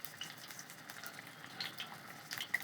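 Fritters of ground lentil paste wrapped in Malabar spinach leaves fry in hot oil, a steady close crackling sizzle with scattered sharper pops, continuous and fairly quiet with no voices.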